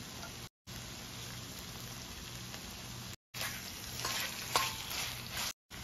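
Boiled prawns fry in a hot pan with salt, a soft steady sizzle with faint stirring scrapes that grows brighter and busier toward the end, broken by brief silent gaps, no talking.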